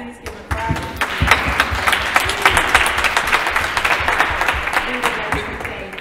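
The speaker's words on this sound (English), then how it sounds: "Please give him a crowd." An audience at a community event claps steadily throughout, a dense, fairly close round of applause with individual hand claps standing out and no speech over it.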